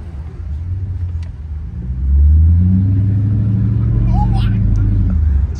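Chrysler 300C exhaust rumbles deep and steady from inside the car while driving, swelling louder about halfway through as it gets on the throttle, with faint voices in the cabin.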